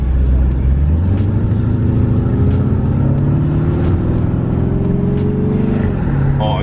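Lamborghini Urus engine humming under load while driving, a steady low drone that rises smoothly in pitch as it accelerates, then drops near the end, heard from inside the cabin.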